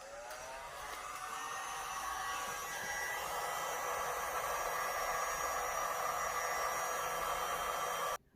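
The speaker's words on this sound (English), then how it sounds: "Now these last two I've not hit with my heat gun" A heat gun blows steadily on resin bookmarks, producing a constant airy hiss and whir up close for several seconds before cutting off abruptly at the end.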